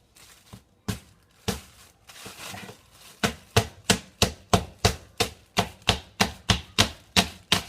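A wooden spoon strikes soft fruit repeatedly, a steady series of about a dozen thuds in quick rhythm after a few scattered knocks, close and fairly loud.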